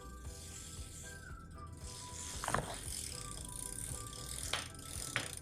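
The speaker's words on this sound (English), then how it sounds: "I am going to put my rag here on the bottom part of the chain and then pedal backward" Bicycle chain pedaled backward while wiped with a rag, giving a steady soft whirring rattle and ticking of the freewheel, with a few sharper clicks, close and fairly quiet.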